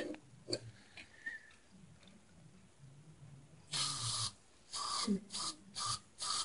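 Several short hissing bursts of aerosol starting fluid sprayed into a riding mower engine that won't start, close and fairly loud, separated by brief pauses after a quiet stretch.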